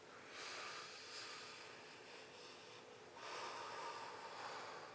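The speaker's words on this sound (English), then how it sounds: "Just keep breathing in." During a live breathing exercise, a person takes deep breaths in through the nose with long, airy hissing inhalations, two drawn-out breaths heard faintly with no talk.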